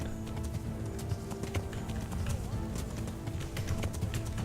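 Hooves of a horse in a medieval knight video game, a quick clip-clop gallop rhythm running steadily under a speaking voice.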